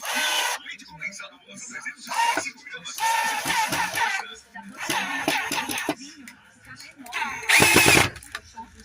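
A power drill drives a screw in several bursts of whirring motor, each revving then stopping, with a louder final burst near the end, interleaved with someone talking close by.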